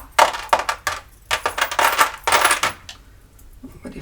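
Small metal charms handled and dropped, a series of close, bright jingling clinks in quick bursts that grow quieter toward the end, with no voices.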